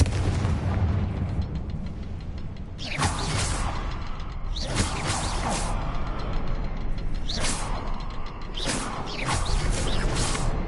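Confringo blasting spell cast in the Hogwarts Legacy video game: several loud fiery bursts erupt over a dense, rumbling game soundscape, each blast spreading into a crackling roar before fading, with repeated explosions toward the end.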